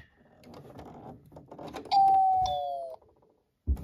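A house doorbell gives a two-tone ding-dong chime, close and clear, after quieter shuffling sounds, then a soft thump at the end.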